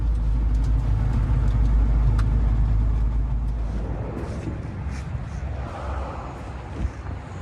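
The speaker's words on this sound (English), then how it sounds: "I took my final drive in the Trooper" Interior of a Trooper SUV on a final drive, a steady low engine and road rumble with wind buffeting, loud at first and easing somewhat toward the end, with no talking.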